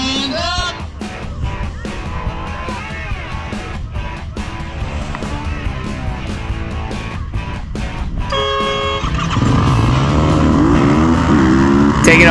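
Racing quads take off at the start of a race, including a Yamaha YZF 450R, with loud revving and whining engines from a close pack, pitch rising and falling as they accelerate, growing louder near the end.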